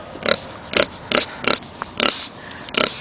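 A pig grunts repeatedly in a livestock pen, about six close, loud, short grunts in an even rhythm.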